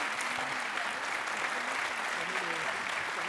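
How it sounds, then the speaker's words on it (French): Broad, even applause from an audience at an awards ceremony for an innovation trophy, steady and continuous with a faint murmur of voices underneath. "On peut l'applaudir."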